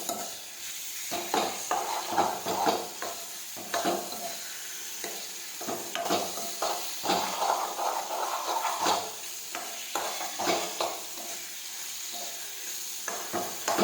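Ripe banana curry sautéing in a pan: a spoon scrapes and stirs in irregular strokes over a soft, continuous sizzle, with occasional clinks of metal against the pan, close and with no talking.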